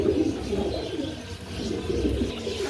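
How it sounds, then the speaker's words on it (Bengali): Butterfly pigeons cooing close by, a steady low murmuring coo running continuously through the moment with faint chirps above and no talking. "দেখতেছেন ভাই এটা বাটারফ্লাই কবুতরটা"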